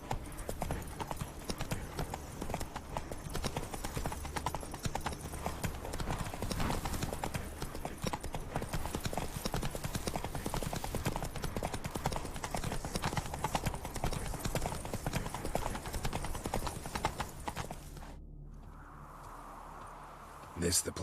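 Roach, a horse in The Witcher 3, gallops with a rapid, steady clatter of hooves that continues for most of the stretch, then cuts off abruptly near the end.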